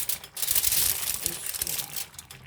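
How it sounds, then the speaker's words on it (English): Aluminum foil crinkles and crumples in close, loud bursts as it is pressed over a pan of seafood paella, with sharp crackles coming in quick uneven handling pulses. "I'm using foil paper because I don't want to add much water to this food."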